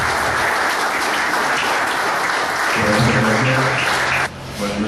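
Steady applause from an audience at a talk in Chivilcoy welcoming speaker Daniel Di Giacinti, a dense wash of clapping with faint voices underneath, cutting off abruptly near the end.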